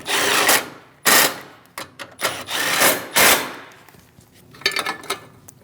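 Ratcheting and tool clatter from hand-tightening 10mm bolts on the cooling fan assembly of a 2016-2025 Chevrolet Malibu 1.5L, loud close bursts of metallic clicking separated by short pauses, no talk.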